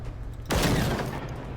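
Gunfire and an exploding impact in the video game Generation Zero: a dense burst of shots and a loud blast erupt after a quiet moment, then a rumbling, crackling tail lingers and slowly fades.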